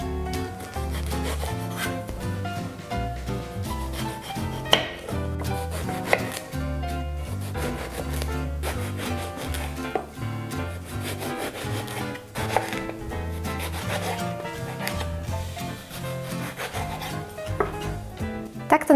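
A knife slices eggplant into thin rounds on a board, about half a centimetre each, as a quick, steady run of crisp chops over background music.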